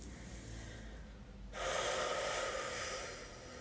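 Heavy breathing during a splits stretching exercise: gasps and snorting breaths, close and fairly quiet, swelling into a sustained airy exhale about halfway through, with no talk.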